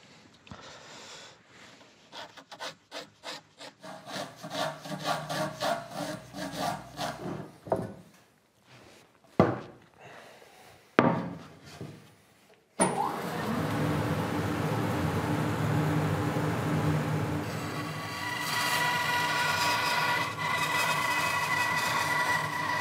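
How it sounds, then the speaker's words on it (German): A band saw cutting wood for a traditional wooden chair: first a run of rhythmic hand-worked scraping strokes, then the machine starts with a sudden jump into a loud, steady whining roar that holds to the end. "Und danach sägen wir das an der Bandsäge aus."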